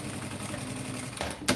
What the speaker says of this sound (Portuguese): Eu passo 2 vezes a costura, sempre no lugar da alça.